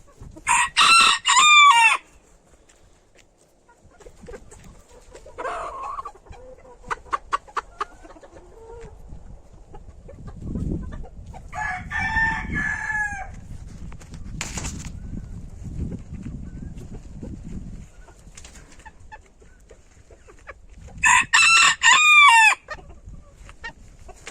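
Chickens taking dust baths in their new garden, wire-covered run with a tarp roof, cluck and a rooster crows loudly in bursts at the start and end, with softer clucking and scratching in between.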